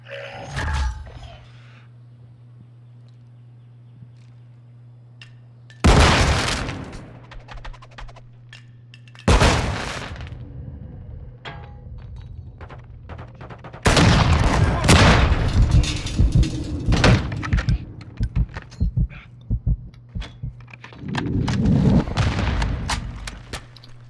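Bursts of gunfire in a shooting game during a final-minute round: several loud, sharp volleys separated by quieter gaps, with a steady low hum in the background.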